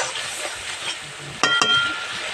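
Spices for chicken curry, including kasuri methi and black pepper powder, sizzle steadily as they fry in a pan, with two sharp clinks of a stirring spoon against the metal near the end.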